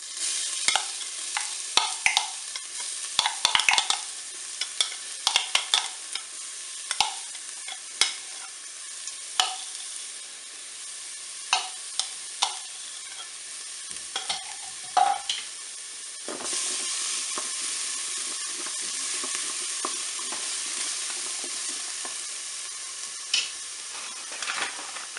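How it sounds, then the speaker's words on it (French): Shallots frying in hot olive oil in a Cookeo multicooker, a steady close sizzle throughout, broken by frequent clicks and scrapes of stirring. "L'huile est chaude, donc on va pouvoir commencer à faire revenir nos échalotes."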